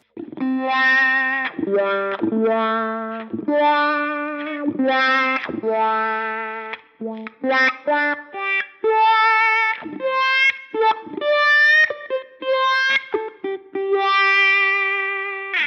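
An electric guitar plays a sequence of notes through a sweeping wah effect modeled on a Line 6 Helix-family processor, opening and closing the tone, with short gaps between phrases.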